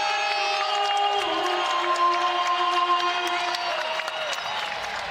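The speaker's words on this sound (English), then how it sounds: "Crowd into it as Simeon Cottle has dialed up 17 points" An arena crowd at a Kennesaw State Owls college basketball game cheers and applauds during a timeout after a step-back shot, a steady, dense roar of clapping and voices throughout.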